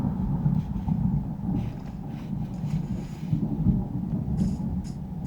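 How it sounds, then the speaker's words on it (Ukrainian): Thunder from a big storm in Minecraft rolls as a continuous deep, loud rumble with a surging low roar and no clear breaks. "Перший раз такий таку велику грозу чую."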